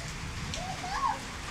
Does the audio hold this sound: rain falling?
yes